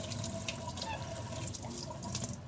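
Water runs steadily from the tap of an Ecosphere Nu Skin water purifier, a soft continuous trickling and splashing stream heard close and fairly quiet, with no talk.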